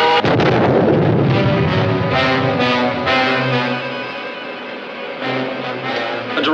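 Retro 1953 sci-fi serial weapon firing with a heavy explosion on a direct hit, a loud booming blast with rumbling low tones and sustained roar that fades and swells again, alone without talk.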